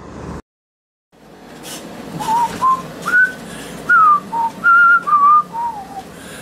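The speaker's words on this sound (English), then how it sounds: "I can't even whistle." A man whistles a short tune, a string of close, clear, slightly wavering whistled notes in uneven phrases after a brief silence, with faint background noise underneath.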